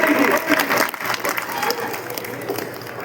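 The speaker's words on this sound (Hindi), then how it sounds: "आपके बीच में एक बार जोरदार तालियां" Loud, sustained applause from an audience at the oath-taking ceremony of the Garhwal Sabha in Faridabad, a dense clatter of many hands that tapers slightly toward the end.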